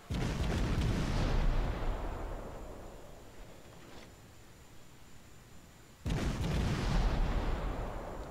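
Two heavy naval gun salvos in World of Warships, each a deep loud boom with a long rumbling decay, about six seconds apart, with a faint crack between them.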